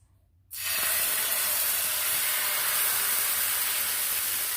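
Ragi flour dosa batter hits hot oil on a pan with a sudden loud hiss that holds as a steady, close sizzle for several seconds after a quiet start.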